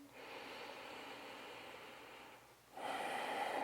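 A long, breathy exhale during a yoga forward hinge, heard close as a steady airy hiss that dips briefly and then resumes with a stronger rush of breath.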